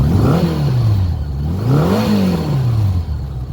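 A 1984 Honda GL1200 Goldwing Standard motorcycle engine running close by, loud and steady, revved up twice with rising and falling pitch sweeps between idle stretches, and no voices.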